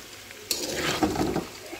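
A spoon stirs spiced new-potato curry in a pan, a brief burst of wet sizzling and scraping that starts suddenly after a quiet half-second and then fades.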